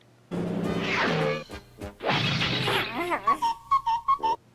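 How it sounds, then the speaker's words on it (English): A cartoon crash as Super Grover slams into a wall: a loud whooshing rush, a second crashing smash, then a flurry of boings and a wavering whistle-like tone, all at close range. "they use this illustration in a pretty funny manner when Super Grover goes crashing into a wall"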